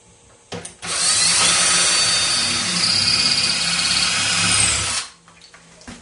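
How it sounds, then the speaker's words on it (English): A power drill bores into a reproduction skull mount for shed antlers, running steadily for about four seconds at close range, starting and stopping sharply with a faint whine over a grinding buzz. "And we'll go ahead and drill it."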